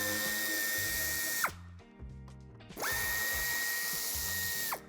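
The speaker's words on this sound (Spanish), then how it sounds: "En ambos pasos de rueda tendremos que quitar los tornillos que sujetan el paragolpes." A power tool whirs steadily at close range while removing bumper screws in the wheel arch of a 2022 Mercedes-Benz T-Class, running in two long bursts with a short break between them, ending with a falling whine each time.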